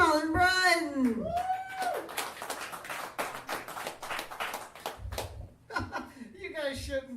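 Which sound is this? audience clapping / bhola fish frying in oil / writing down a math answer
audience clapping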